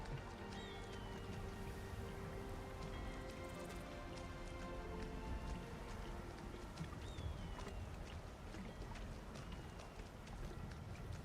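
Steady rain patters down in a modded Skyrim landscape, a dense even hiss of drops with faint chirps and occasional soft knocks, continuous and moderately loud throughout.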